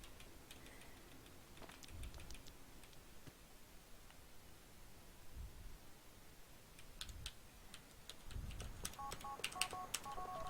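A phone dials in GTA: The Ballad of Gay Tony, with soft tones and beeps over low game ambience, several short tones clustering toward the end.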